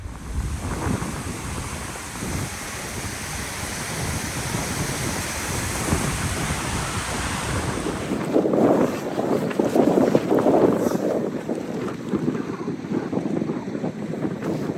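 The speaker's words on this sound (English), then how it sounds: "Oh, the wind. It's coming straight over this mountain I'm heading up to." A strong, near-freezing wind blows over a mountain in the Arctic Circle, roaring and buffeting hard against the microphone in continuous loud gusts that surge stronger midway through.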